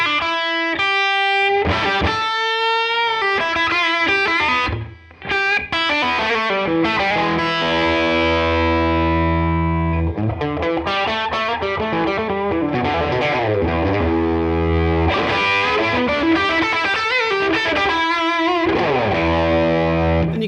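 Blues electric guitar played through a Neural DSP Tone King Imperial amp simulator, driven and chorused, with loud, continuous chords and single-note lines, a brief pause around five seconds, no talking.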